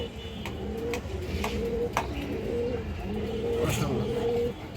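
Soft repeated cooing from a female pigeon, a maroon-flecked chila type, in low rolling phrases near the listener, with a voice talking over it and a few sharp clicks scattered through.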